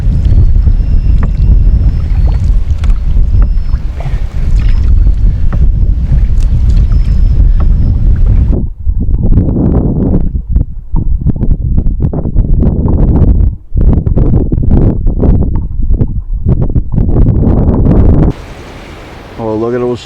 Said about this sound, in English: Man, we got some strong winds here.